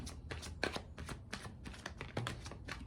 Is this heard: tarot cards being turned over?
yes